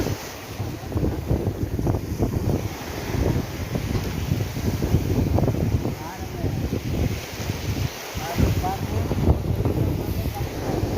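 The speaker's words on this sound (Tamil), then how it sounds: "இன்னைக்கு காற்று கொஞ்சம் கம்மியாக இருக்கனால" Wind buffets the microphone aboard a fishing boat out at sea: a steady, loud low rumble with gusty swells throughout, with voices talking underneath.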